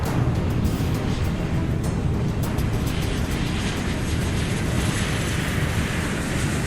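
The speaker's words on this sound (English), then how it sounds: "That is 137 tons of aircraft moving at V1 speed." A 137-ton airliner accelerating down a runway at takeoff speed in a movie scene, a loud continuous roar of engines and wind filling the whole clip with no pauses.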